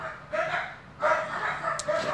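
A dog barking in a few short, moderately loud bursts with small yips in between, and no talking over it.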